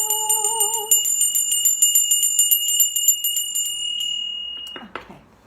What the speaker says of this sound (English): ring the little bell